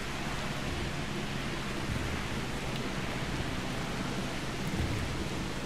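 Steady, even rain hisses over a dinosaur park in the video game Jurassic World Evolution, a continuous broadband wash with a low rumble beneath and no voices.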